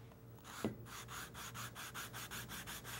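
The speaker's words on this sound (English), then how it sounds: "I just like to take my sanding block and just a couple of passes on each face," Sanding block rubbed over a wooden door panel in about a dozen steady, even back-and-forth strokes after a single knock, close and moderately loud with no talk.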